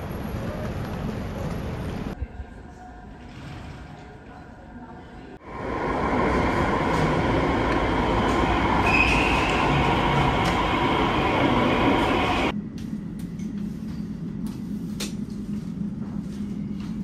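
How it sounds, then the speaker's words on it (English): Inside the free airport train running to Heathrow Terminal 4, a steady rumbling ride with a quieter stretch, then a louder surge of rolling, whooshing rail noise before it settles back to a low hum. "So take the free train to Terminal 4,"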